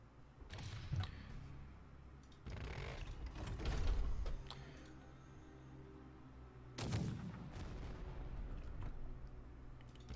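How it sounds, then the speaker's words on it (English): Gunfire in the Punk Wars video game, scattered low booming shots and blasts, a few heavy hits spaced several seconds apart over a rumbling background, fairly faint. "Oh, we're getting shot at again."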